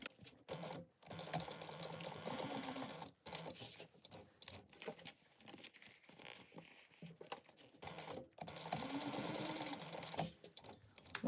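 A sewing machine bastes D-rings onto backpack fabric at a narrow seam allowance, whirring close in several bursts of rapid stitching separated by short pauses, with no talking.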